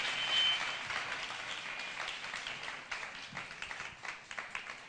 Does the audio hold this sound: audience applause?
yes